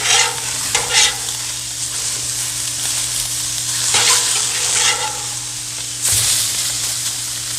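Carrots sizzle on a hot griddle ahead of a brown sugar and butter glaze, giving a steady frying hiss. Brief scraping and stirring bursts come and go over a low constant hum, and no one speaks.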